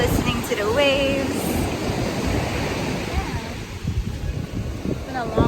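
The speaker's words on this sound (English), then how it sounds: "enjoying the view, listening to the waves" Ocean surf rolls onto a beach near Alamere Falls in California, a steady, loud wash of breaking waves with gusty wind buffeting the microphone and faint voices mixed in.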